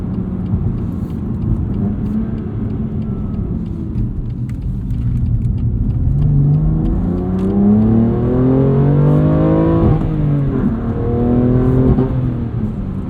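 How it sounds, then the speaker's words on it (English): A 2021 BMW M2 Competition with a 6-speed manual revs up through rising pitch sweeps while accelerating, with popping, crackling burbles from the exhaust layered over a steady loud drone. "Some interesting sounds coming out of that exhaust"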